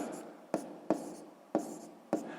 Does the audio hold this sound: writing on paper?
yes